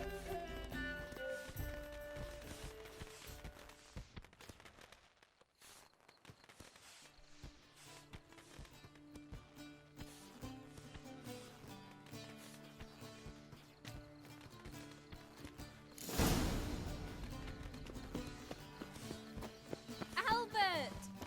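Horse hooves clip-clop in The Witcher 3 video game, a steady walking rhythm of saddled horses sitting under background music, with a louder burst near the end.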